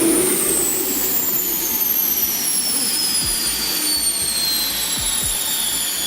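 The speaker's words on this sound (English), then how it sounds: "A rugged diesel engine feeding a brutal water jet propulsion system" A Deutz T216 diesel engine drives a water jet propulsion system, roaring loudly and continuously with a high whining tone that slowly drops in pitch, plus a few low thumps underneath.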